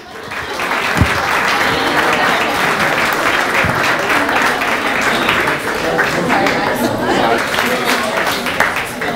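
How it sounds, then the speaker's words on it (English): Wedding guests at a reception applauding the newly introduced bride and groom: a loud, sustained crowd of clapping hands that fills the room without pause, with a few brief louder claps and cheers mixed in. "let's give a round of applause for our newest bride and groom, Gary and Mandy"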